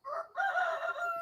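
Roosters crow loudly and close by, two overlapping calls in quick succession, with a brief gap and then a sustained, strained crow. The crowing rings out on a farm where an old concrete mixer is being restored.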